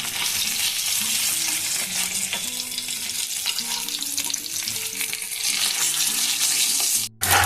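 A spoon scrapes and stirs through pumpkin and potato curry flavoured with panch phoron as fish heads are mixed in, with steady soft sizzling and scraping throughout and a brief bump near the end.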